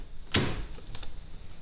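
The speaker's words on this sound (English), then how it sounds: "go to the car, open the driver's door" The driver's door of a 2004-era BMW E39 opening: a single short latch click and thump, close and moderately loud, followed by faint rustling over a steady background hum.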